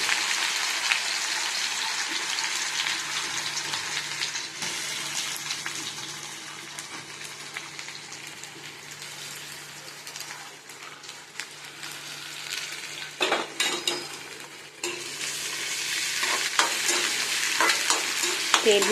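Cumin seeds and onions hit hot oil in a pan for a chana, parwal and potato sabzi, giving a loud continuous sizzle with stirring scrapes and crackles. No one speaks.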